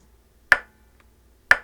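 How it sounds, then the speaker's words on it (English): Two sharp, bright snare hits about a second apart, each with a short decaying tail, from a single snare drum sample shaped with EQ and compression, standing alone with no talk. "So this is the snare I ended up going with here"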